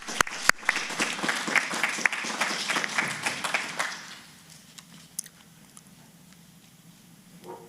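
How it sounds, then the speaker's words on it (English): Applause for Star Award winners at a public library board of trustees meeting, a modest burst of clapping from a small room that lasts about four seconds, then fades to quiet room noise. "A round of applause for our Star Award winners."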